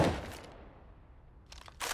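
Gunfire in Counter-Strike on the Overpass map, a quick burst of shots at the start, then a lull of low ambient noise, then a few more rapid shots, with no voices.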